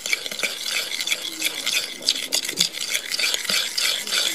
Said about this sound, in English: pour in your sugar and stir it in until it's nice and dissolved